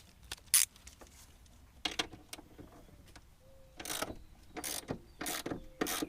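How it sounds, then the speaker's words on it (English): Intermittent ratchet clicks and metallic tool sounds from removing the two 13 mm top nuts on a Mercedes-Benz rear shock, in short separate bursts at close range with quiet gaps between them. "we're going to go ahead and remove these two 13 millimeter nuts up top"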